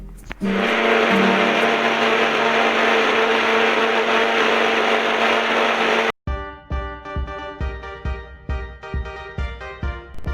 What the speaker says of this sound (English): Now let's transfer all our ingredients to the jar. Now we'll grind it.